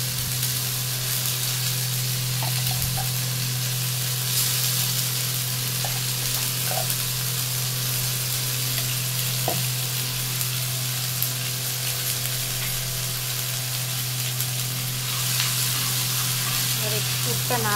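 A green pea and ginger paste filling fries in mustard oil in a kadai, giving a steady close sizzle over a constant low hum, with occasional faint clinks of stirring.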